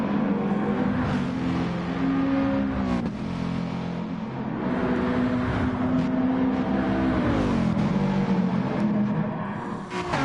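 Race cars roaring through a PS4 racing game, with engines droning steadily and rising and falling in pitch as the cars shift and push on, loud and continuous without any talk.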